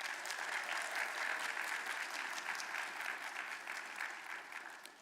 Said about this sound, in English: Let's give our honorees another round of applause.